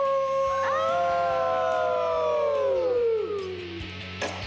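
People in a Nashville bar howl together after doing shots, a loud sustained group howl with long falling pitch lasting several seconds before fading into bar noise, voices imitating a wolf or dog howl.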